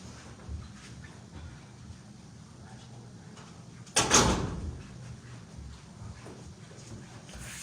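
A door shuts in a newsroom with a single solid knock standing out near the middle, then background room noise and murmur carry on around it.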